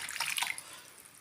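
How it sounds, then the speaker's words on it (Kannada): Water is splashed briefly into a cooking pot of masala with rock salt, a short, soft pouring burst that trails off within about a second, quiet and with no talking. "ಸ್ವಲ್ಪ ನೀರು ಹಾಕಬೇಕು."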